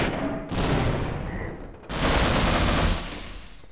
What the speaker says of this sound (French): Il y a un sniper.